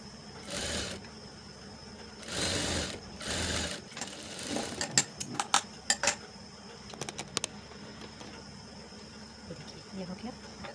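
A sewing machine stitches a princess-cut blouse in three short whirring bursts, followed by quieter clicks and taps of fabric and tools being handled, with a voice speaking now and then.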